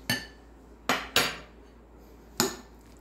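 Utensil clinking and scraping against a bowl while shrimp salad is mixed, four sharp separate knocks spread unevenly with quiet gaps between, close and clear with no talking.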